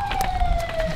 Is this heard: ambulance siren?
yes